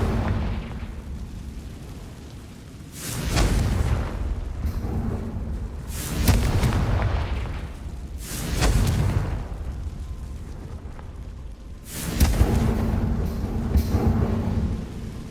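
Fire-blast spell explosions in the Hogwarts Legacy game: three loud booming bursts with rumbling tails, spaced a few seconds apart, alone without talk.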